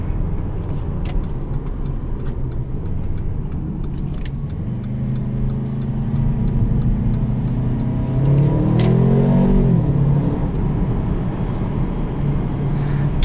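A 2018 Mercedes-Benz CLA250 accelerates hard, its engine note climbing in pitch, dropping briefly at a quick dual-clutch paddle shift and rising again, loud and close inside the cabin over steady road noise.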